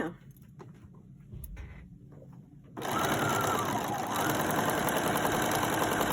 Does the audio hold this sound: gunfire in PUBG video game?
no